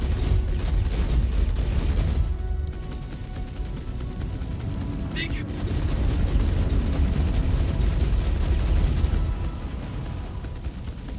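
Ship weapons in Star Citizen during a Corsair versus Idris space duel, with rapid rhythmic bursts of cannon fire pulsing over a deep engine rumble, pausing briefly, then resuming steadily near and loud.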